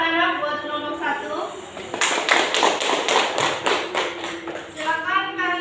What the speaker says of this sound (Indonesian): Beri aplaus dong anak-anak buat kelompok 1.